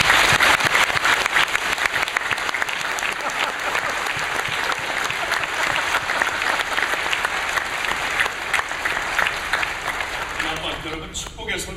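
Church congregation applauding a pastor at a Korean community church service: sustained, dense clapping from a large crowd, steady and loud for about eleven seconds before tapering off at the end.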